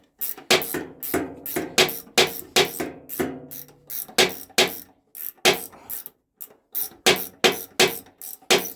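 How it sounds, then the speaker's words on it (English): Ratchet wrench being cranked on a Gravely snow thrower, a rapid series of sharp metallic clicking bursts repeating steadily and close by with brief pauses between strokes. "a good old ratchet wrench."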